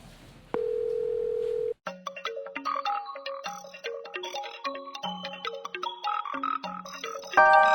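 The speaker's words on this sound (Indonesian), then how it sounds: "kalau gitu saya telepon Nino dulu ya sebentar" A telephone call placed to someone produces a single steady ringback tone lasting about a second, heard alone, followed by a busy stretch of bright, plinking tonal sounds.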